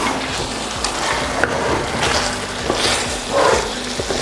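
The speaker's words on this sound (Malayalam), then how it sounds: "നമുക്കൊന്ന് അടുപ്പൊന്ന് തുറന്ന് നോക്കാം. ഒന്ന് ഇളക്കി കൊടുക്കാം." Chicken biryani being stirred in a pot on the stove, with steady scraping and sizzling and occasional clinks of the spoon, close and fairly loud.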